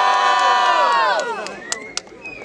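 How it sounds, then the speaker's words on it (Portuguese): A loud crowd at a student rap battle in Guarulhos, São Paulo, cheers and shouts in a sustained roar that slowly fades, with a couple of sharp whistles or whoops near the end. "quem achou que Muhan foi superior faz muito barulho"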